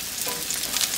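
Salmon and onions fry in a pan, village style, with a steady close sizzle and crackle that holds for the whole moment without voices.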